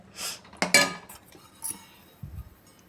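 A spoon clinks against a pan while muskmelon halwa with cornflour is stirred on a low flame, giving a few sharp metallic taps and scrapes spaced apart in a quiet kitchen.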